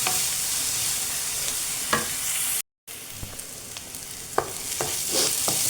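Tomatoes go into hot oil in a pan while cooking a spicy sardine dish, giving a steady loud sizzle with occasional stirring scrapes and clicks, briefly cut by a moment of silence midway.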